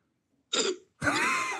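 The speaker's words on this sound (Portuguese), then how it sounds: "Tem algum pigarro ali" A woman clears her throat twice in a played-back voice message, two short raspy bursts separated by a brief pause, fairly close and alone without speech.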